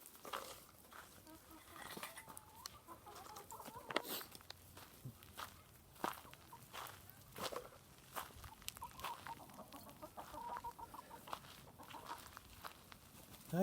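Chickens in a backyard coop cluck softly and intermittently alongside scattered footsteps, fairly quiet, with a person speaking now and then.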